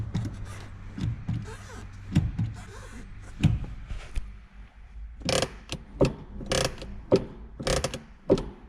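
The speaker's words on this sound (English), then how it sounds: "first press the brake pedal a couple of times" Repeated presses of the brake pedal on a Kia Rio after a rear brake pad replacement give a series of close mechanical clunks and clicks in an irregular rhythm, growing sharper and more frequent toward the end.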